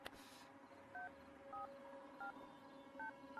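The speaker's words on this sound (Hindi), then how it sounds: "यार तू फोन लगाएगा ठीक है प्लीज" A telephone is dialed to place a call: five short electronic keypad tones in an irregular sequence, each paired with a higher beep, sitting over faint steady background hum.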